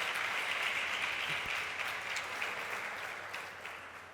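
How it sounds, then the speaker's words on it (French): Audience applause fills the room at a fairly faint level, a steady wash of many hands clapping that slowly fades toward the end. "on peut les applaudir très fort s'il vous plaît."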